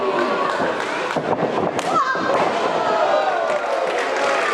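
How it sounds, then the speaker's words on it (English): Wrestlers trading hard blows in a women's match in Elizabeth, Pennsylvania, repeated dull thuds over a noisy cheering crowd in an arena, with commentators talking throughout. "Hear the force, the impact as both these athletes striking one another"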